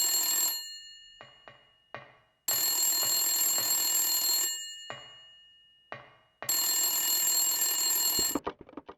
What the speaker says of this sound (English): as I was about to leave, the phone started to ring